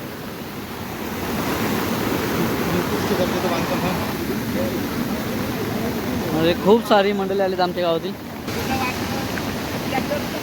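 Heavy monsoon rain and a swollen, rising river at Anjap in Karjat make a steady broadband roar, with a person talking over it throughout and a brief rattling clatter near the end.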